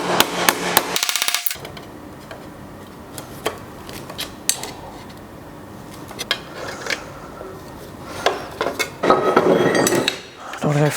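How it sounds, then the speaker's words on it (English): Metal hammering on a classic Sunbeam Rapier body flange being flattened: sharp irregular strikes spaced across the stretch, with a denser cluster of taps near the end, close and fairly loud over a quiet workshop background. "I'm going to go flattening my flange."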